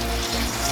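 A hose sprays water over a K&N air filter being rinsed clean, a steady, close hiss of splashing water with no voices.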